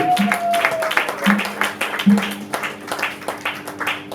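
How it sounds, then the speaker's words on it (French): A church congregation applauding during a sermon, a moderate crowd clapping with a loose rhythmic pulse, mixed with voices and a recurring low tone beneath. "Là tu as applaudi pour moi"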